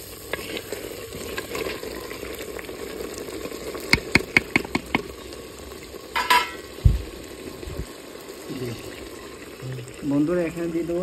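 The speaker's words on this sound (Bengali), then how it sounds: "বন্ধুরা 8-10টা কাঁচা লঙ্কা দিয়ে দেবো।" Green chillies, 8 to 10 of them, dropped into hot oil with mutton in a clay pot, giving a steady sizzle with scattered stirring clatter and a few sharp knocks, close by with ambient background hum.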